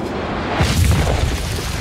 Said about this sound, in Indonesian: tembakan pelontar pun menghantam ke tempat di mana Ho Jie dan Cao Men berada